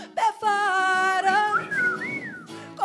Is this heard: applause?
no